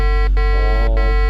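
A Topcon grade control machine's steady electronic alarm tone drones continuously, with a low, dull, buzzy character and two brief dips where it cuts out.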